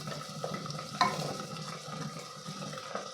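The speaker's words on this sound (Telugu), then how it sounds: "ఈ మూడు చక్కగా ఇప్పుడు మనము ఫ్రై చేసుకోవాలి." Onions, green chillies and fenugreek leaves frying in a pan for a potato and chana dal curry, a soft sizzle with a few spatula clinks and stirring scrapes, close and fairly quiet.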